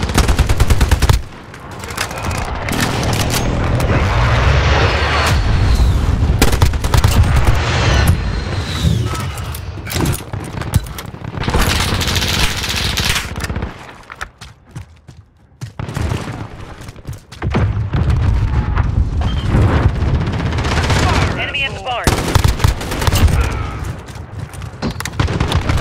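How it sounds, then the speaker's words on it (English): Call of Duty Modern Warfare match with loud, sustained bursts of automatic gunfire and heavy booms from an enemy precision airstrike, nearly continuous throughout, dropping briefly to near silence midway before the firing resumes. "Enemy precision airstrike."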